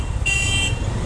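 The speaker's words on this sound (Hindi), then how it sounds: "पीछे मुझे लोग हॉर्न मार रहे" A single car horn toots briefly behind a rider in evening road traffic, a steady half-second honk over a low rumble of engines and road noise.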